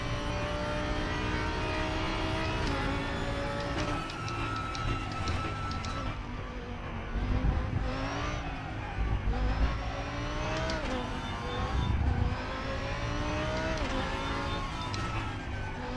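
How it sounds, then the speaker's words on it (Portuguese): A race car in a racing simulator game pulls out of a corner weakly, its engine climbing through the revs in rising tones with shifts and dips. The engine is loud and constant throughout, with no voices. "dá para escutar o carro saindo fraco aqui"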